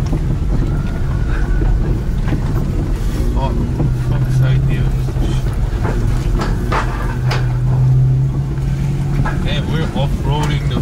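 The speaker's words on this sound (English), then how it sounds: "Damn, we're off-roading the fucking AMG right now." A Mercedes-AMG car drives off-road over rough ground with no road, its engine and tyres rumbling steadily under heavy wind noise on the microphone while people talk over it.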